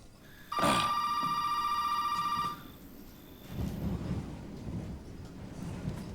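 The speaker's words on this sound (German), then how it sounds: "Telefon?" A telephone rings loudly inside the Resident Evil 7 video game, one sustained electronic ring of about two seconds, then the line falls into a low rumbling ambience with no voices.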